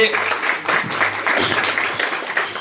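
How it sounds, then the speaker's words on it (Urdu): Audience applause at a ceremony honoring Aqeel Malik at the EDO Center, a steady wash of clapping throughout, mixed with voices. "بہت ساری تالیاں آپ کے لیے."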